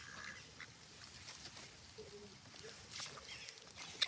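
Ducks kept over many days quack in soft, scattered calls against steady outdoor background noise, with a sharper burst near the end.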